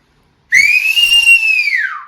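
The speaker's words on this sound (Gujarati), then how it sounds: "આ સીટી કેટલા પ્રકારની હોય કે જે ત્યાં આગળ હોય એટલા પ્રકારની સીટી વાગે" A single loud, piercing finger whistle rises quickly, holds a bright sustained tone for about a second and a half, then bends downward and fades, heard alone and close.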